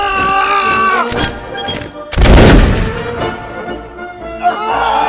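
Cannon and musket volley in a video-game battle: a loud, dense burst of blasts erupts around the two-second mark and lasts about a second, with scattered smaller reports before and after over a busy background of music and voices.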